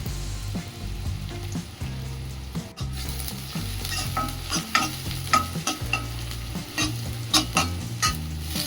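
Fish biriyani ingredients sauté in a hot pan, a steady sizzle with repeated scraping stirs and clinks of a spoon against the metal, close and continuous without talk.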